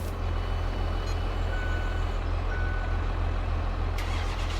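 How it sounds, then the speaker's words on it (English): A farm truck in Farming Simulator 22 moves near a planter, its steady engine drone carrying a regular series of high reversing beeps, with a brief hiss like an air brake near the end. "We're going to move the truck."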